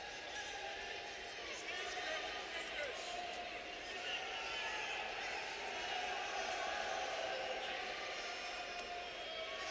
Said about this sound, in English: the Penn-friendly crowd here in the Palestra calling for stalling